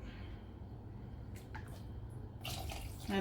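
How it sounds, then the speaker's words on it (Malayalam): Water is poured into a cooking pan while making mango halwa, a splashing pour that swells near the end over a low steady background hum, with no talking. "എന്നിട്ട് ഇതിൻ്റെ കൂടെ കുറച്ച് വെള്ളം കൂടി ഒഴിക്കുക."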